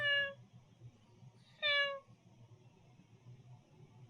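A person imitates a cat's meow with two short, clear meows separated by a pause, over a low background hum.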